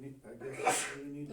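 A single sharp sneeze bursts out in the middle of a municipal meeting discussion, close and loud, with a person speaking around it.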